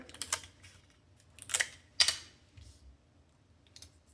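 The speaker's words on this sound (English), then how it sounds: "Tape one side, flip it over," Tape pressed onto the folded bottom of a 3D paper flower gives a few short, crisp crackles and taps, spaced apart in otherwise quiet surroundings.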